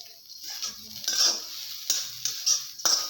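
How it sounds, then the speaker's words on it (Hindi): Semolina roasting in ghee for sheera as a spoon stirs it: soft crackling sizzle with intermittent scraping strokes against the pan, close and fairly quiet, with no voices. "इसको अच्छे से ब्राउन होने तक हम भुनेंगे"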